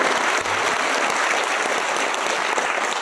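A crowd at a BSP political gathering in Maharashtra claps loudly and continuously to welcome a guest, dense steady applause filling the room without pause.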